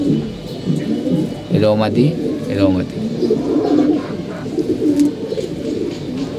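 Pigeons coo in low, throaty, repeated calls close by, sometimes under a voice as he talks.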